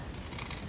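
A quick close snip of scissors cutting through a paper seed packet to trim off a white edge line, one short crisp cut alone without talk.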